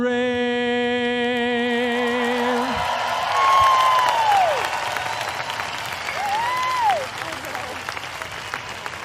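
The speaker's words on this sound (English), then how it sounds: "a big round of applause for Alex Yant and our national anthem" Large arena crowd at the CrossFit Games applauds and cheers after the national anthem singer finishes, a sustained roar of clapping and whoops that swells mid-way, with a fading sung note and whistles over it.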